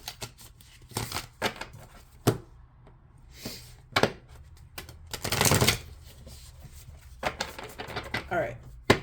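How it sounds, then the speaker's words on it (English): Tarot cards being shuffled by hand, with irregular bursts of riffling and soft slaps that come and go. One longer, denser shuffle lands near the middle, and quiet speech and handling noises fall between the bursts. "All right, I'm just going to shuffle a little bit."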